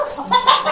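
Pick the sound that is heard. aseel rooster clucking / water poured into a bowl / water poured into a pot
aseel rooster clucking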